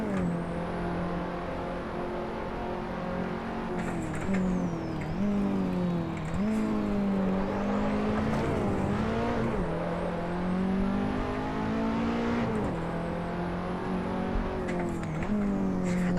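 KTM X-Bow race car at Silverstone in Assetto Corsa, its engine droning loud and steady with pitch shifting up and down through gear changes and corners, continuous throughout.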